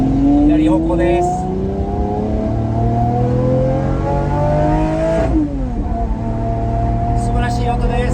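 A car engine revs up loudly while driving, its pitch climbing steadily, briefly dropping at a gear change, then rising again, with a person talking over it.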